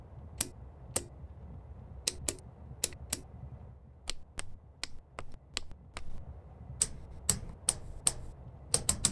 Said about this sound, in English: Everything you hear is a high-quality recording of the actual switch or lever or dial